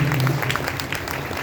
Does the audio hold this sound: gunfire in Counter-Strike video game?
no